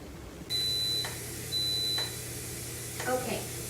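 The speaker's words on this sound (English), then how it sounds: "our beeper has gone off" A pressure cooker's timer beeps as it comes to pressure: two sustained high electronic tones, each about half a second, with a fainter chirp afterwards, over a steady low appliance hum.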